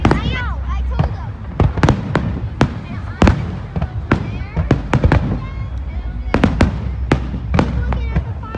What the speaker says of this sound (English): Looking at the fireworks.